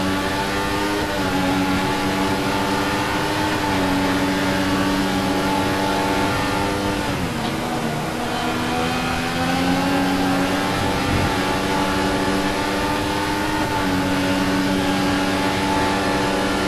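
Formula 1 car in the F1 2014 racing game revving hard, its high engine note climbing through gears with a brief dip and shift midway, loud and continuous from start to finish.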